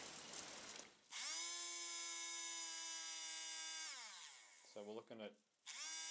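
A small RC car electric motor, running during an amp test without its neodymium magnets, spins up to a steady, loud high-pitched whine, holds for a few seconds, then winds down and stutters before briefly revving again, with someone talking at the start.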